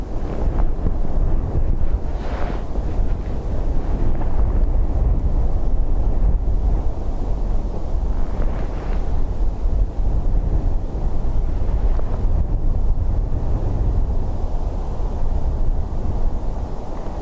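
Strong wind gusts of about 29 knots buffet a microphone tucked under a jacket at Dublin Airport before dawn, a constant loud low rumble with a few brief surges and no talk.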